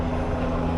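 A helicopter flies overhead near Union Station in Los Angeles, a brief, steady, broad rotor drone heard from a distance outdoors.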